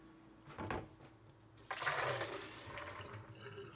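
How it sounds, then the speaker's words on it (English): Water from soaked vegetables poured off through a strainer: a faint splash early, then a loud rushing pour that tapers into a lighter trickle, with no talk. "Let's go ahead and just strain this off right over here."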